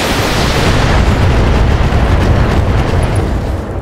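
Missiles exploding in the mech combat video game Battletech, a dense, loud, continuous rumble of overlapping blasts lasting several seconds.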